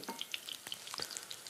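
Shrimp fry in a hot pan with a steady, close sizzle broken by quick popping crackles and small spits of oil, running continuously without any voices.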